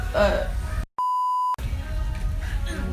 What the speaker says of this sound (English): Samantha, beep that out.